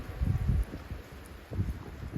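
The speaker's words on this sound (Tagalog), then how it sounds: "Sobrang lakas ng hangin." Strong wind gusting outdoors in the small historic town of Pabellón de Hidalgo, buffeting the microphone with low rumbling bursts, loudest at the start and again in brief surges later.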